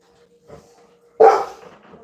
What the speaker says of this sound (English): My dog's so loud.